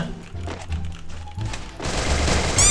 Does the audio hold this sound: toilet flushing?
no